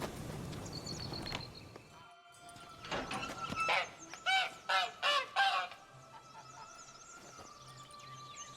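A caged goose-like bird in The Witcher 3: Blood and Wine honks in a run of five loud, evenly spaced calls near the middle, with softer rustling and ambient game sound before and a faint hum after.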